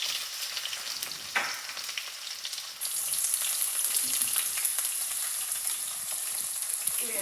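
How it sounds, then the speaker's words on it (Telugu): Curry leaves, cumin, chillies and onion sizzle and fry loudly in oil in a pan as a tempering for a bottle gourd curry, a steady crackling hiss that grows brighter after more is added. "ఇప్పుడు పోపు పెట్టుకుంటున్నాం కరేపాకు జీలకర్ర మిరపకాయలు వేసాను ఇప్పుడు ఆనియన్ వేసుకున్నాం"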